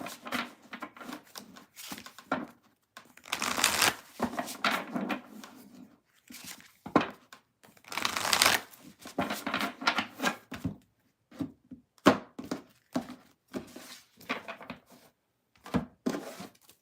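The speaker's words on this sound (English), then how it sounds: "Did I already shuffle these? I don't even know if I shuffled them." A deck of cards is shuffled by hand, with two longer riffling bursts among scattered quiet taps, slides and rustles, heard up close and fairly soft.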